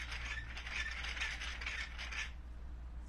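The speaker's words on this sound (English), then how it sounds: "So we're twisting, and we've got 3 strands of equally twisted yarn here," A Schacht Incredible Rope Machine twisting three strands of yarn into rope gives a close, steady mechanical whirring rattle of turning gears for about two seconds, then stops.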